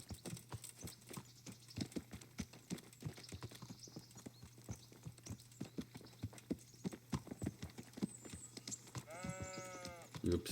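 Horse hooves galloping in Kingdom Come: Deliverance, a long, steady clip-clop rhythm close by, with a brief bleating animal call near the end.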